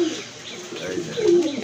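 A pigeon held in someone's hand coos softly in a low, rolling call close by, its coo swelling slightly toward the end.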